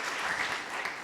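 A congregation at an online church service claps steadily in dense, even applause for God, with no voices over it.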